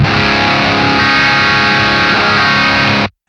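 An electric guitar plays through a Beam Mini amp on a heavy distorted patch, giving a loud, dense, sustained saturated tone for about three seconds before cutting off abruptly, with no talk.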